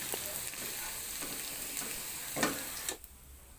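Oil sizzles and crackles steadily in a pan as tempeh fries, with a few sharp pops and scraping stirs, then the sizzle quiets near the end.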